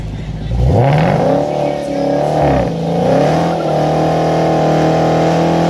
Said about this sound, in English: Did I forget to mention that Mopar vehicles are made for burnouts?